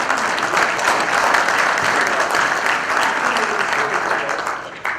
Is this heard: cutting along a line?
no